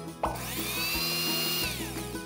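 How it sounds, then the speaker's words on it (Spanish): A cartoon magic juice-making machine runs with a steady whirring, grinding hum as a banana is blended. The sound is mechanical and drill-like, close and continuous, with no voices over it. "¡Qué divertida la máquina mágica de hacer zumos!"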